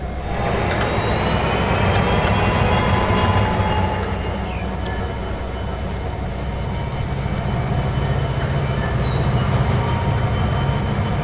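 A train rolls past at close range, loud and continuous, with a steady rumble, clattering wheels and faint high squeals from the rails throughout.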